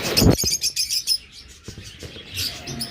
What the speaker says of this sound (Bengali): এবার লাভবার দিয়ে শুরু করতেছি